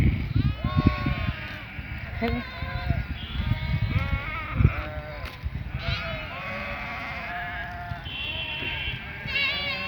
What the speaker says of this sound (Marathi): ते आमचे तर मेंढर आलेले आहेत